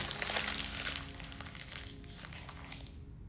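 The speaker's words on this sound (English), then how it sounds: "I want you to crumple it up." A sheet of paper is crumpled by hand, a continuous close, soft crinkling and crackling lasting a few seconds.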